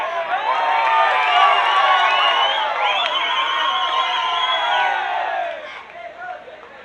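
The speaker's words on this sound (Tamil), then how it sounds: "ஒரு கைதட்டு கொடுங்க" Crowd of a live stage drama audience cheering and clapping together, a loud sustained roar of voices and hands that fades near the end.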